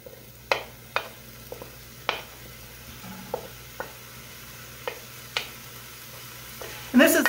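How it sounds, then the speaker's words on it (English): About a pound of Italian sausage hits a pan preheated on medium, giving a faint, steady sizzle broken by sharp scraping clicks of stirring, ending in a louder burst. "So I'm going to go ahead and put this in my pan that I already have started to preheat."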